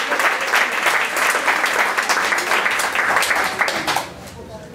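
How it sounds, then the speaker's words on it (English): Enthusiastic audience applause after an accordion audition performance, dense clapping from a crowd that stays loud and steady before thinning out near the end, with a few voices mixed in. "Give him one more round of applause."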